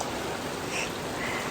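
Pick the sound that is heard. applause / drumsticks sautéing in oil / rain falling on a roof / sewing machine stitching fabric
rain falling on a roof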